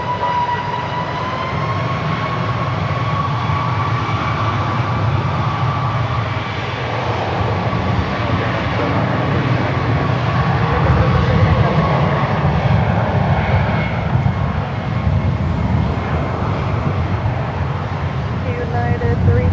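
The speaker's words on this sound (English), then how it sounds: "Clear for takeoff." A jet airliner takes off at San Francisco International Airport, its engines a sustained loud roar with a steady whine that swells as it powers down the runway; radio chatter and talk sit faintly beneath.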